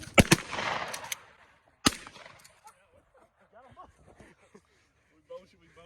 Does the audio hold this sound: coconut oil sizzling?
no